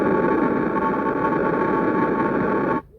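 Seismometer recording of an M7.4 earthquake off the east coast of Japan, taken at a station 482 km away and sped up into sound: a steady, loud, noisy roar with a faint hum that holds for nearly three seconds, then cuts off abruptly.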